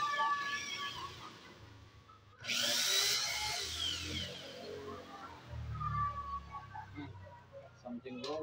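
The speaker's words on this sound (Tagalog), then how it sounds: "Something wrong with my drill." A cordless drill whines up loudly for a second or so, then runs on more quietly in an outdoor setting with chirping birds and background noise, and a voice speaks nearby.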